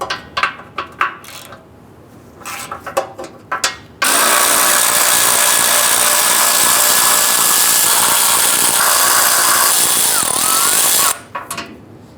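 An electric power tool spins out 13 mm front bumper bolts on a 2005-2010 Chrysler 300, a loud continuous high-pitched whir for about seven seconds, preceded by scattered metallic clinks and clicks of handling tools.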